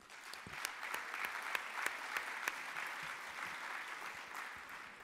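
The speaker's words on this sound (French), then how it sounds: "Nous applaudissons les invités déjà présents." An audience at a French union meeting applauds the guests already present, a steady, fairly distant wash of many hands clapping with a few sharper individual claps standing out, sustained throughout without speech.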